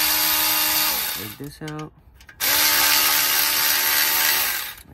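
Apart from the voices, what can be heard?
electric ratchet removing engine mount bolts on a Mazda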